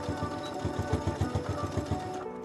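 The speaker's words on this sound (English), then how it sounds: "I'm first stitching the V onto the layers below to fix the welts in place" A sewing machine runs steadily, stitching the welts of a trouser pocket in place with a fast, even rhythmic clatter, close up, then stops.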